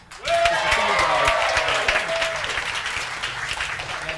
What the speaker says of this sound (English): please, a round of applause from everyone around the world watching